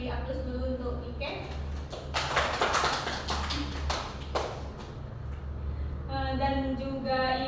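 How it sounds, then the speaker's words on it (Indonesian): A classroom breaks into brief applause, a couple of seconds of scattered clapping that rises between a teacher's spoken remarks and fades as the talk resumes. "Beri aplaus dulu untuk Ike."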